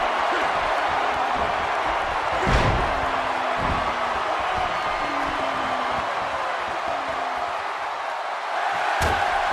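A large wrestling crowd in a video game roars continuously in the background, a dense sustained wash of cheering with a couple of sharp thuds cutting through.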